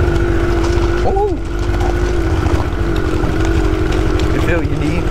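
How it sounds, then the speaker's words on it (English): A two-stroke minibike engine drones steadily and loudly throughout, with a brief pitch sweep as the throttle shifts, heard close up while riding. "All you guys hear is the two-stroke"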